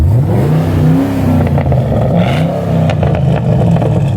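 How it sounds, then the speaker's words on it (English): A 2013 Camaro ZL1 engine revs in neutral, a loud, steady, full-bodied roar with rising and falling pitch sweeps held close throughout. "You want to give it a rev."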